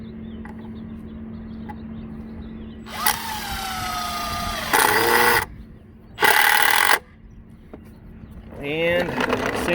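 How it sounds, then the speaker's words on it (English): A power drill drives screws into a wooden outdrive stand for a boat, in three short whining bursts that rise and stop, separated by quieter pauses. "And we're going to run a temporary screw, or run one screw in on both of these again."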